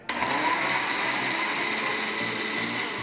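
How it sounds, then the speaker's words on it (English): A kitchen blender purees whole tomatoes, a loud steady high-pitched whir that starts abruptly and holds constant throughout, with no talking. "we're just gonna drop them in there, and we're just gonna puree them for about a couple seconds"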